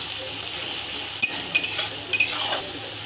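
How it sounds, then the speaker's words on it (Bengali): Onions frying with sugar in a pan, a constant hiss of sizzling broken by several sharp metal spatula scrapes and clinks against the pan, no voices. "ভালো করে পেঁয়াজটাকে ভেজে নিচ্ছি।"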